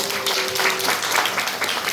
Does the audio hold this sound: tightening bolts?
no